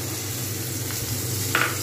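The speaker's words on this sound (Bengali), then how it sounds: "এটাকে ভালোভাবে কষতে থাকবো, সমস্ত মশলাগুলো সাথে সাথে পেঁয়াজগুলো" Onions and ground spices sautéing in a pan for a Bengali chickpea and potato curry. A close, steady sizzle runs throughout, with a brief stirring scrape near the end, and no voices.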